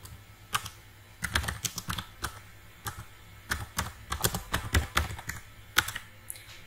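Typing on a computer keyboard: quiet, close clusters of quick key clicks in uneven bursts, with no speech over them.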